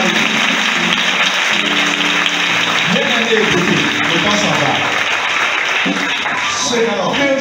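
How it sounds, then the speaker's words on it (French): A church congregation breaks into loud applause and acclamations in the name of Jesus, a dense continuous wash of clapping mixed with cheering voices, close and sustained throughout. "le montre maintenant par des acclamations au nom de Jésus."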